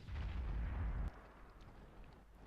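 Artillery gun firing in World of Tanks, a single heavy boom at the start that holds a low rumble for about a second and then drops to a quieter background hiss.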